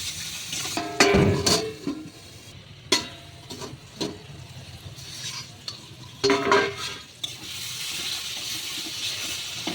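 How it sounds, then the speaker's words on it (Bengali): Spice paste for potol chingri sautéing in a pan, a faint low sizzle broken by several sharp spoon scrapes and clinks against the metal, some louder bursts, no speech. "তো 5-7 মিনিট ধরে মশলাটা আমি ভালো করে কষিয়ে নেব।"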